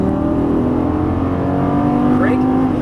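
A Lamborghini Gallardo LP550-2 engine pulls steadily on track, a loud continuous drone holding one pitch, then a brief rising note near the end as the throttle is squeezed on.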